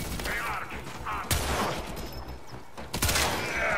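Pistol fire in Warframe, with a couple of sharp, loud shot bursts punctuating a busy mechanical game soundscape.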